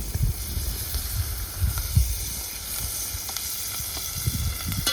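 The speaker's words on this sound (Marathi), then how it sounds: "कांद्यात थोडंसं तेल टाकून घेते." Chopped onion fries in a little oil in a pan, giving a steady close sizzle and hiss, with a few soft stirring knocks of a utensil.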